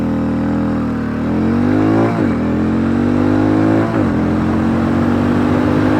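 A Hero MotoCorp Mavrick 440 motorcycle engine revs loudly and close, its pitch climbing as it accelerates through the gears with two quick upshift dips before pulling steadily higher.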